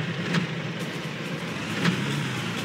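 A car drives in the video game Far Cry, in a swamp mission, with a steady engine drone that swells slightly. A couple of faint clunks sit on top, and no voices are heard.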